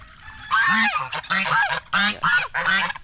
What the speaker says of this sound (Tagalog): Sama ko ang mga gansa dito.